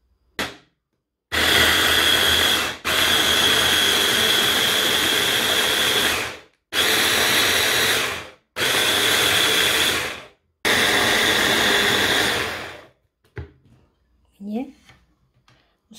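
Blender blending a strawberry smoothie in several loud, steady bursts of whirring motor with short pauses between them, ending in quieter clinks and handling sounds.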